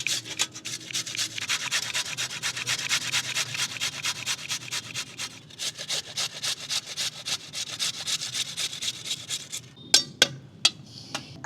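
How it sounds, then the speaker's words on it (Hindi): Steady, rapid scraping strokes of fresh turmeric root being grated, a dense rhythmic rasp that thins out into a few sharper scrapes at the end. "हल्दी को कद्दूकस कर देंगे ऐसे।"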